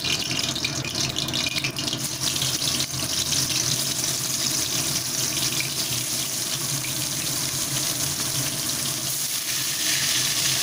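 Fish frying in hot oil in a home kitchen, a loud, dense and continuous sputtering hiss held close throughout with no talk.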